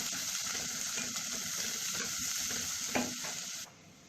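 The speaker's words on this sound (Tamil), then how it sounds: "வெங்காயம் போட்டு வதக்குவோம்." Onions fry in sesame oil with cinnamon, cloves and cardamom, giving a continuous close sizzle with a brief stirring scrape partway through before the hiss drops off near the end.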